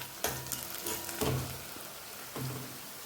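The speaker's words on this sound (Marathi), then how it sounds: "आता ह्या स्टेजला इथे आपल्याला लाल मिरची घालायची आहे आणि ती व्यवस्थित आपल्याला परतून घ्यायची आहे" Red chillies sautéed in a pan give a continuous sizzle, with about three louder bursts of frying as they are stirred, close and clear with no talk.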